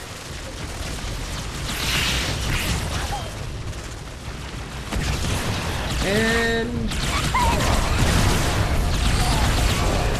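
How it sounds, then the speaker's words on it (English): Repeated booms and blasts from a Halo: The Master Chief Collection firefight on Xbox One, sustained and fairly loud throughout, with people talking over the noise. "there are so many explosions."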